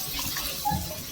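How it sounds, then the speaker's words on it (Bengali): Water is poured into a simmering Bengali fish curry with young jackfruit, a short, soft, continuous splash and trickle at close range with no talking. "একটু জল দেব।"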